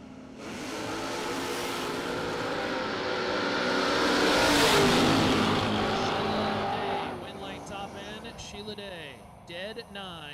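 Drag race cars, among them a 2001 Camaro, launch at a drag strip: a loud, roaring engine surge swells over several seconds, peaks, then drops away into fainter mechanical rattles.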